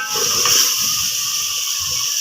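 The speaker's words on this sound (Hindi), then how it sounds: "अब सब चीज़ों को अच्छे से हमने भून लेना है" Vegetables with salt and red chili frying in a village kitchen give a steady, close hiss of sizzling with a faint low clatter of stirring underneath, and no voices.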